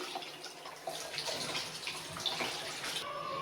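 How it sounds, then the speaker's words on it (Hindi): Water poured into a basin to rinse tie-dye fabric at home, a faint, steady splashing stream with soft gurgles and drips running throughout. "इसके बाद ये पानी निकाल के मैं दोबारा एक बार पानी दूंगी।"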